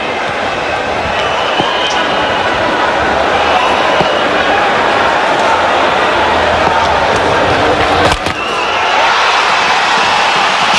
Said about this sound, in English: now a very warm reception from this crowd on his half century